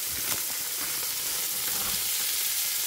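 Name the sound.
smoked pork belly lardons frying in a pan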